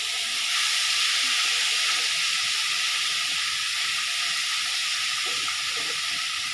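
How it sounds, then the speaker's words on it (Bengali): Banana flower cooked down with spices in a pan sizzles loudly and continuously, a steady close-up frying hiss with faint stirring underneath and no talk. "একটু ভালো করে ভাজছি।"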